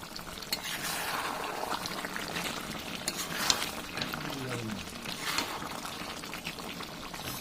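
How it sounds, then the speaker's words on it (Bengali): Meat curry with garam masala being stirred in a pan: close scraping and wet stirring over a soft simmering sizzle, with a few louder knocks of the spoon, no talking. "এবার আমি দিচ্ছি কিছুটা গরম মশলা এবার আমি ভালো করে নেড়ে টমেটো নামিয়ে নেব"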